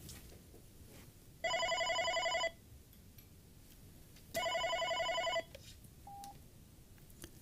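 A Siemens OpenStage 15 desk phone rings for an incoming call, two electronic warbling ring bursts about a second long each, clear and close, followed by a brief short tone in a quiet room.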